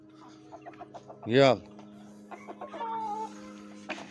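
Hens cluck in short bursts at a backyard coop before being fed, with one louder, drawn-out squawk near the start; someone speaks briefly over them.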